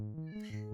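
A cat gives a short, clear meow up close, a single drawn-out tonal call that lasts under a second with no other sound around it.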